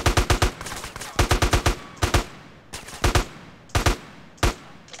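Gunfire in the video game GTA San Andreas: quick bursts of automatic shots alternate with single loud cracks, separated by short pauses. The shots are sharp and close.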